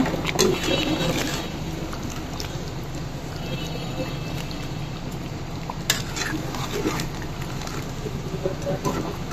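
Potatoes sizzle in a frying pan as they are stirred and turned, with soft scraping and occasional utensil clinks over a steady frying hiss.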